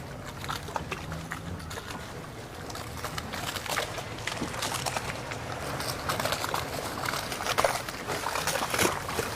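A boat moving across the water at the Damnoen Saduak floating market in Thailand, with waves sloshing and splashing against the hulls in a continuous, fairly close wash that builds slightly toward the end.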